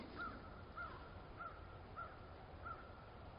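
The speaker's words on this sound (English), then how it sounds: "Another crow calling." A crow caws outdoors, five short, evenly spaced calls from a moderate distance over steady background noise, with no talking.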